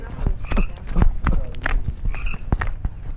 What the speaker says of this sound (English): Oh, we got frogs today